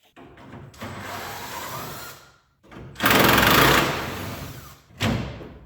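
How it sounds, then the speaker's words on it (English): Nut driver spinning small nuts off a 1980 Plymouth Volare, heard as several close, loud stretches of whirring and grinding separated by brief pauses. "we're going to need a nut driver for those"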